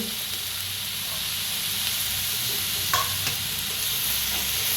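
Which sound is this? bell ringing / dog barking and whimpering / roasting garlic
roasting garlic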